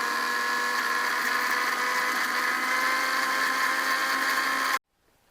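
An electric mixer grinder whirs at a steady high pitch while blending mustard seed paste with water, loud and constant, then cuts off abruptly near the end.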